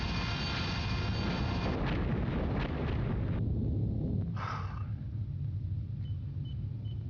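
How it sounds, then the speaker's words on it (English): A distant underwater torpedo self-destructing in the submarine game Silent Steel: a dull, rumbling explosion that swells in a low roar, then fades into a steady deep background hum. "Torpedo self-destruct, sir."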